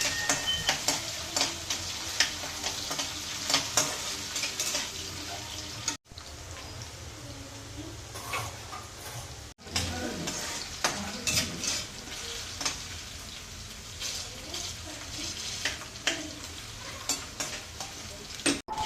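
Chopped potatoes sauté in hot oil with cumin, mustard seeds and a pinch of asafoetida, a steady close sizzle with scraping stirs and clinks throughout, briefly dropping out twice.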